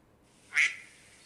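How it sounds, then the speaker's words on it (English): One short, nasal duck quack rings out alone against near silence. "duck."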